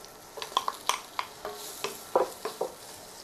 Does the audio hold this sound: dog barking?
no